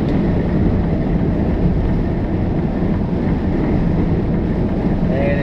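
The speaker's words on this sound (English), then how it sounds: "And as you can hear, it is windy" Strong wind buffets the microphone in a steady, loud roar that never lets up, a broad rushing blast outdoors in snowy, rainy weather.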